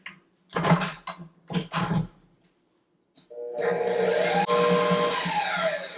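An electric mixer beating cake batter at medium speed starts after a few knocks and clatters, then whirs loudly and steadily for the remaining seconds with a changing pitch.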